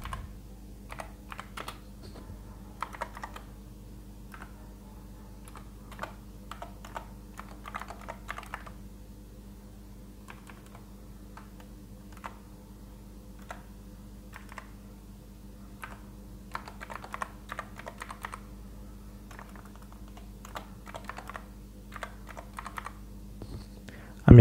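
Irregular bursts of keystrokes on a computer keyboard as an SQL query is typed, soft clicks over a steady low electrical hum, with a faint voice now and then.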